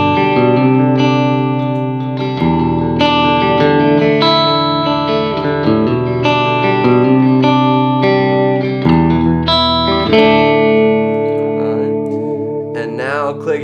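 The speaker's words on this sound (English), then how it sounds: "Let's hear it with just a little bit of reverb." An electric guitar runs through a Vox AC30 amp modeler with a touch of reverb, playing ringing chords and single notes that sustain and overlap, loud and close with a gentle sense of space.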